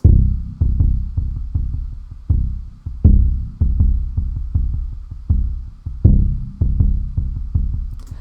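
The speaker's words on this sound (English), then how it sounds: "this is just an Omnisphere, like, pre-programmed pulsing bass" Omnisphere synth bass patch pulsing in a repeating rhythm, deep throbbing notes each decaying into softer ping pong delay echoes, steady and loud with no talking.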